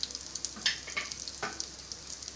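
Spices, coriander powder and a teaspoon of salt frying in a kadai over medium heat for kadai paneer, a quiet steady sizzle with small scattered crackles and a few soft stirring scrapes.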